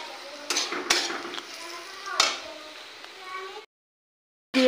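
Turmeric sizzles and fries in hot oil in a pan while being stirred, giving steady crackling with a few sharp scraping clicks before it cuts off abruptly.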